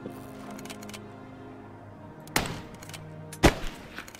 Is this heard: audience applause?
no